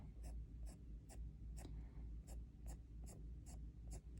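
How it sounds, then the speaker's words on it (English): Coloured pencil strokes scratch across paper in a steady rhythm, about ten short crisp strokes close up and quiet, with no talking over them. "So I'm going to put the strokes in first"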